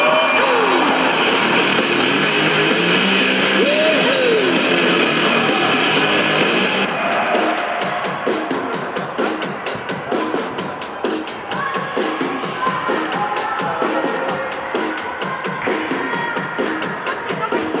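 A crowd applauds and cheers at the closing ceremony of a youth football tournament for players born in 2011, with sustained loud clapping and shouts, and an announcer's voice over the noise at first.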